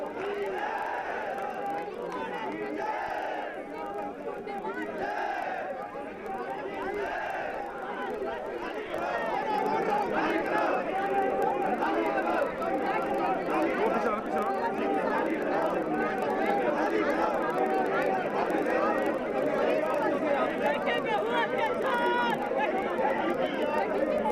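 A large crowd of protesters at the Singhu border, on the Delhi edge, makes a dense, continuous roar of chatter and shouting that swells partway through and stays loud to the end.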